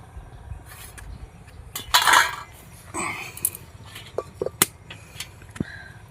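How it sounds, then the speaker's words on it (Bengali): Metal lid lifted off a pan of chitoi pitha cooking on low heat, one loud clanking scrape followed by a few lighter clinks and taps, close up with no talking. "প্রায় দু তিন মিনিট পর আমি ঢাকনাটা খুলছি"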